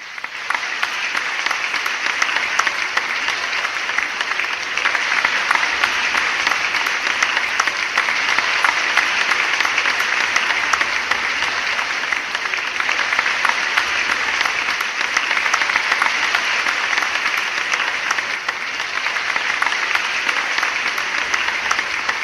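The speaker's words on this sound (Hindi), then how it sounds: "जोरदार तालियों से स्वागत कीजिए" A large crowd at an official ceremony for a virtual groundbreaking of industrial-area infrastructure applauds loudly and continuously for over twenty seconds, an even, sustained wash of clapping.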